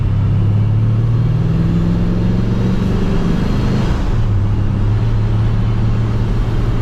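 A supercharged Pontiac GTO drives along with its exhaust cutouts closed, giving a steady, fairly subdued low engine drone that dips briefly as if shifting, then settles back into an even cruise.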